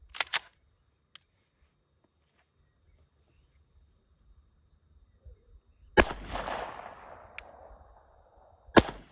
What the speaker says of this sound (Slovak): Teraz si vystrelíme podzvukové strelivo z 9 Luger bez tlmiča